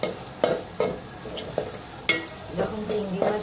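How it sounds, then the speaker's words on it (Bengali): Shrimp frying in a pan, a close crackling sizzle punctuated by several sharp clanks and scrapes of stirring at irregular intervals. "এখন আমি চিংড়ি মাছ দিয়ে দিয়েছি।"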